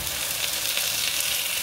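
Onions frying in a pan with tomato paste for a fish gravy, giving a steady, dense sizzle with no pauses.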